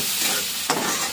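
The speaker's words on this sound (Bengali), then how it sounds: "এখন মশলাটাকে ভালো করে কষিয়ে নেব।" A spice paste fries and hisses loudly in a pan, with a single quick scrape of stirring cutting through the steady sizzle.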